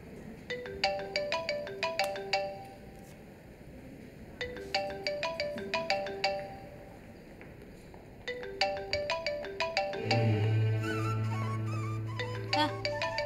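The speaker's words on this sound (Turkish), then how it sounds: "Telefonun çalıyor." A mobile phone ringtone plays a repeating melodic pattern of bright tones in bursts, close and clear, continuing over a low background hum with a brief low tone near the end.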